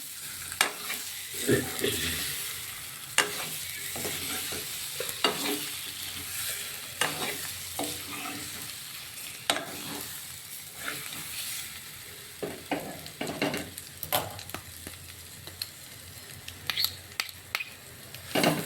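Onions frying with masala in a pan, sizzling softly while a spoon stirs and scrapes in repeated strokes for an egg curry, close and fairly quiet.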